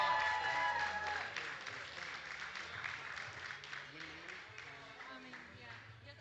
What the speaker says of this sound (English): One more round of applause for your final podium